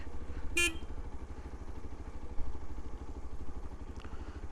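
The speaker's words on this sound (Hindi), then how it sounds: "बाकी देखो, गियर में नहीं है, न्यूट्रल पे चल रही है बाइक।" A motorcycle rolling in neutral down a mountain road, its low rumbling drone steady and close throughout, with a brief horn-like tone near the start and light road clatter.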